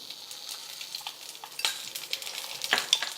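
Oil sizzling in a pan as food is stirred for a capsicum peanut palya, a steady close crackle with scraping strokes that grow louder toward the end, no voices.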